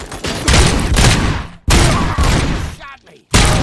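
Loud, dense bursts of machine-gun fire from the RoboCop: Rogue City video game on PS5, two long rattling volleys separated by a brief gap, then a third burst starting at the very end.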